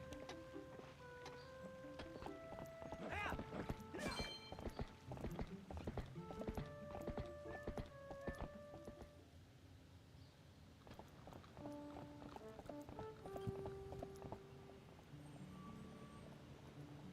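Horse hooves clip-clop in The Legend of Zelda: Twilight Princess HD, a steady walking rhythm under game music tones and ambient sound effects, moderately quiet throughout.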